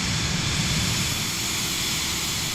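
An airplane engine drones steadily in flight in Microsoft Flight Simulator 2020, a constant broad rumbling hum with no voices over it, on a flight from Peru to Bolivia.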